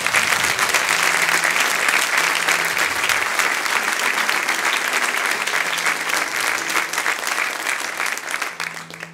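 A church congregation at a marriage-confirmation service claps steadily and loudly throughout, dense sustained applause filling the whole stretch without letting up.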